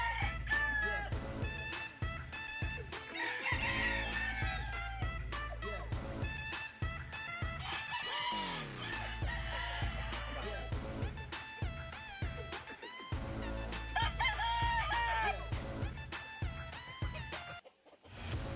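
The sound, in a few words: chickens and roosters crowing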